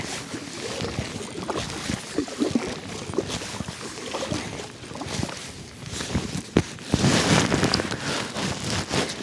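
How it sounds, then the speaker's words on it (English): A canoe is paddled along the Suwannee River, with soft irregular paddle strokes, water splashes and drips, and a few knocks against the hull, heard close. "Paddling away again."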